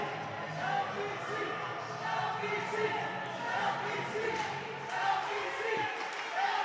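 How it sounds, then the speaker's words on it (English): Crowd at a college ice hockey game between SBU and Lebanon Valley College, a steady murmur of cheering and voices rising in swells throughout, with scattered shouts over the rink noise. "The crowd's starting to get into it here."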